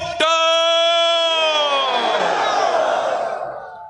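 A huge outdoor political rally crowd for Bhutto at a Malakand jalsa roars together in one long sustained chant-like shout that swells and slowly fades, loud and close.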